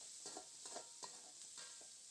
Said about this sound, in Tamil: சின்னதாக வெட்டி அதில் சேர்த்து நல்லா பொன்னிறமாக வர்ற வரைக்கும் வதக்கணும்.